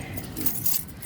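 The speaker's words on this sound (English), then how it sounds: "You almost dropped your keys." A set of keys jangles briefly at close range, a faint metallic rattle of a few quick clinks in an otherwise quiet room.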